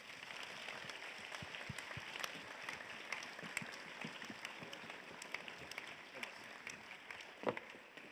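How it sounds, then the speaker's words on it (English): An audience claps to welcome a speaker onto a stage at a livestreamed event, distant and faint, a thin steady patter of hands with a few sharper claps standing out. "Please give her a very warm round of applause."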